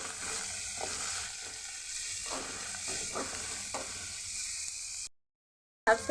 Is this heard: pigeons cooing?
no